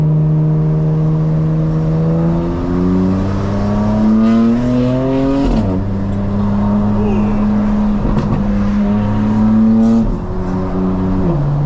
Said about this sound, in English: Oh, loud ass truck.